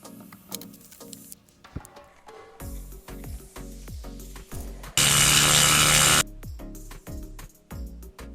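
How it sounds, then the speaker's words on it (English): A jeweler's flex shaft spins a silver ring prong like a small lathe, starting with a series of sharp ticking and tapping hits, then a loud continuous high whine for about a second before the clicks return. "they put the prong inside their flex shaft, and then they spin it, and then they use it as a lathe"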